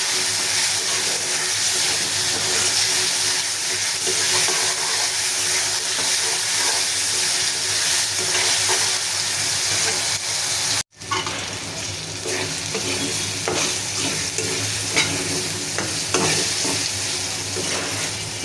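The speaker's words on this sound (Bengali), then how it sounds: "তারপর দিয়ে দিলাম আদা রসুন পেস্ট, এগুলো একটু ভেজে সাথে" Ginger garlic paste frying in a pan for a prawn and taro leaf dish, a loud continuous sizzle with stirring scrapes, a brief cut midway, no talking.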